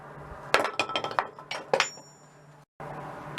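Hammer blows on a metal Corvo mask, roughly eight sharp ringing clinks in an uneven rhythm, close and fairly loud, then a short pause and a steady background hum.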